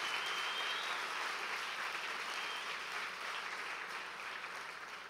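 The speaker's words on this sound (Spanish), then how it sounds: "¿qué tal si le recibimos con un fuerte aplauso?" A church congregation applauds loudly in a steady, sustained burst of clapping that tapers off slightly toward the end.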